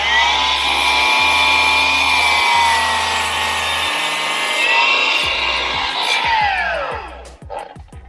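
A Milwaukee M18 12-inch compound miter saw on a DeWalt DE7033-XJ stand makes a loud, close, high, steady whine while cutting, then spins down with a falling pitch near the end, followed by light clatter.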